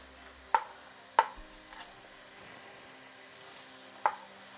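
A knife cuts large mushrooms into smaller chunks for Thai coconut chicken soup: three sharp, close chops against a board, spaced irregularly over a quiet background.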